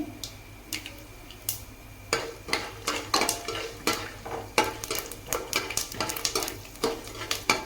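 Peanuts sizzle and crackle in hot oil in a pan, with a spoon scraping and clinking against the metal in steady repeated strokes, close and fairly loud, no talking.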